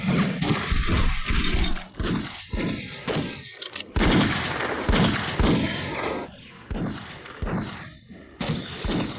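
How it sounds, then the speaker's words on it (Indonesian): Rapid bursts of gunfire from a neighbouring yard as a drama sound effect, loud repeated shots and crashing impacts in clusters, with brief voices between volleys. "Kenapa ada suara tembakan dari halaman sebelah?"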